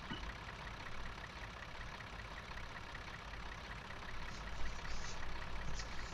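A tractor pulling a tipper in Farming Simulator 2013 drives along with a steady mid-pitched engine drone that swells slightly toward the end.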